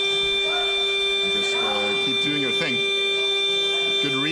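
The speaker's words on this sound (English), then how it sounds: "Good reset by OSI now, as the buzzer goes." A steady electronic game buzzer drones through a playoff sports match, a continuous tone sounding under a commentator's talk.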